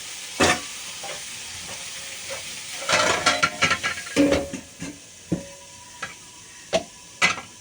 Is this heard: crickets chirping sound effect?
no